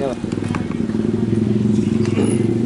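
A Yamaha Jupiter MX motorcycle with a new TDR exhaust idles close by, a steady throbbing, rapidly pulsing exhaust note that is loud and continuous, with a person talking over it.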